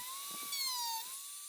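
A drill bit whines at a high steady pitch as it bores through hard rosewood at a workbench, with faint low knocks beneath.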